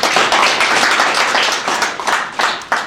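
Audience applause fills the space with dense, steady clapping from many hands, loud and close, rising in a few sharper bursts and carrying on without a break through the whole stretch, with no voices over it.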